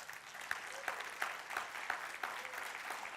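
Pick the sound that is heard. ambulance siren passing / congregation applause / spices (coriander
congregation applause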